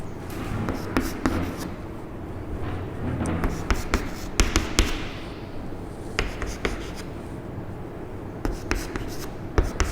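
Handwriting on a surface while working a determinants maths problem: steady scratching strokes with sharp taps and pauses over ten seconds, close and fairly loud, no talk.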